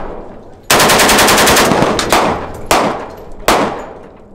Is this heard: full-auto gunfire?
yes